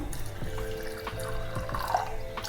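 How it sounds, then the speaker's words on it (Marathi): Water is poured into a pot of soaked overnight beans ready for the pressure cooker, a steady close splashing and trickling with small clinks of the pot throughout. "तर आता याच्यात पाणी टाकून घ्यायचं"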